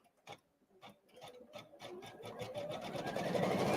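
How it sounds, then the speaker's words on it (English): An embroidery machine stitches out a Christmas card design, starting with a few sparse needle taps that build into a rapid, steady mechanical chatter growing louder toward the end, with no talk. "we can press start again and we can start stitching this out"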